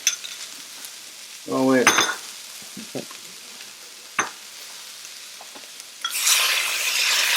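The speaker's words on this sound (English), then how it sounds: "We're going to have to give it a stir because that cornstarch settles to the bottom." A cornstarch sauce for kung pao chicken is stirred in a pan with soft scraping and sizzling, a brief clatter midway, and a louder sizzle at the end; a voice speaks briefly.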